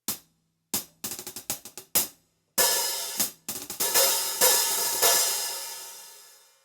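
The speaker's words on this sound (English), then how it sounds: "the most standard one is going to be the hi-hat" A drum kit hi-hat plays alone and close: sharp closed ticks in quick groupings, then opened, washier strikes that ring longer before dying away.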